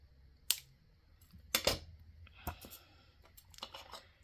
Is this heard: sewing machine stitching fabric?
no